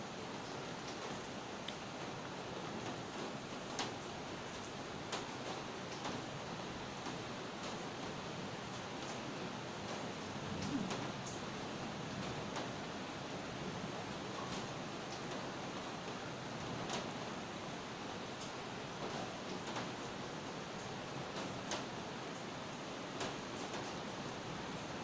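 Steady rain falls throughout, a constant, even hiss of drops with occasional louder ticks, heard alone with no talking.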